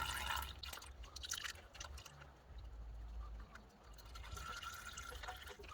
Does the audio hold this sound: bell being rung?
no